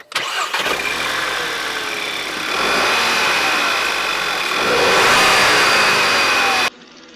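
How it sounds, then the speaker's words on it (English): A Volkswagen GTI engine fitted with its factory air box starts up and is revved, rising twice to louder sustained revs before cutting off abruptly, heard alone with no talk. "I'm going to start this up and give it a few revs with the factory air box in there."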